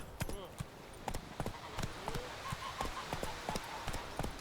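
A horse's hooves clip-clop in a steady trotting rhythm while riding in The Witcher 3 video game, with a voice talking over the footfalls.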